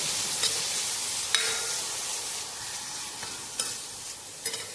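Onion and green chilli sautéing in a pan for tomato rice: a steady, soft sizzle broken by a few scraping stirs, close by, with no one talking.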